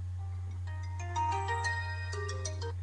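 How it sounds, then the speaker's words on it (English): A Pantech Impact phone ringtone plays a quick sequence of bright electronic notes, clear and steady over a constant low hum. "that's my ringtone"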